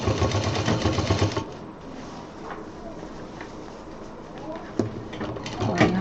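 A sewing machine stitches the front pocket side wall of a baby diaper bag, a rapid mechanical whir that is loud at first, then drops low beneath a voice talking over it.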